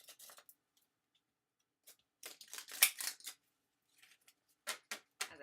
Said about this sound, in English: As I shuffle the deck.